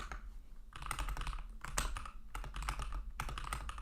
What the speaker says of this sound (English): I'll just type them in chat, I think.